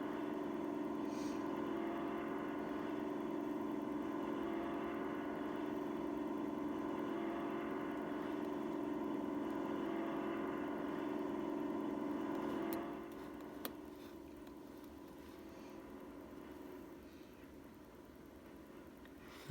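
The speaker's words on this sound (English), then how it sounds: "Listen to that engine." A steady, droning train engine hum in Trainz runs without a break, dropping a little in level near the end, with no voices present.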